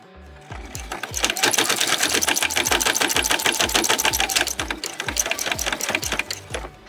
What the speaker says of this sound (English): I'm going to go forward a couple and then back stitch a couple